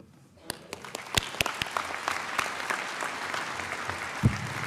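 Audience applause for honors program graduates at a university winter commencement begins with scattered claps that swell into steady, dense clapping from a large hall crowd, ending with one louder nearby clap.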